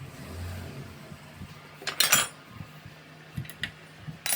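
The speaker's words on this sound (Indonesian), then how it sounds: "Setelah itu, mari pasang koplingnya." Metal clutch parts clink and scrape while a clutch is fitted onto the crankshaft of a Vespa PX 150 engine, a short clatter mid-way followed by a few sharp knocks, close and fairly quiet.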